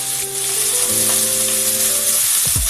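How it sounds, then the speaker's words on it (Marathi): Finely chopped onion sizzles and fries in a pan, a steady close crackle with faint tonal sounds in the background and a brief stir near the end. "तो कांदाही व्यवस्थित फ्राय होऊन द्यायचा"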